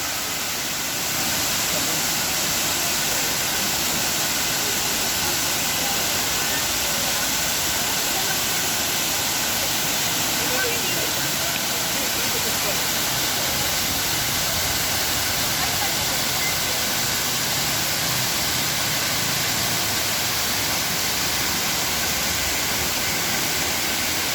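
Foaming water at Hinulugang Taktak waterfall roars in a dense, unbroken rush, steady and loud from start to finish, with no talk breaking through.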